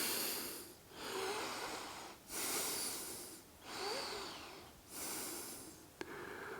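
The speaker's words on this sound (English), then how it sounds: "Breathing." Slow, deep breathing during a yoga exercise, close and clear, with about four or five long rhythmic breath cycles and short pauses between them.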